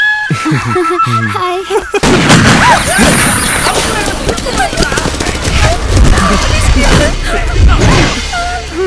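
Loud bursts of gunfire and booming blasts crash continuously after a brief stretch of voices, dense and chaotic, with shouting mixed underneath.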